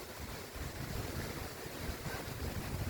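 Strong wind blowing outdoors beside road construction, a steady, loud rushing roar buffeting the microphone without letting up.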